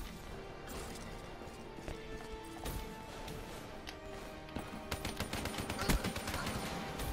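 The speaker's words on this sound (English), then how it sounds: "I'm thinking this is like a burst fire." Burst-fire gunshots in the Call of Duty Black Ops 3 video game, rapid clusters of sharp cracks growing denser toward the end under a busy game soundscape.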